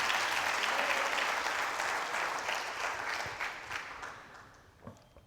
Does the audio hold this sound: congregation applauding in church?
yes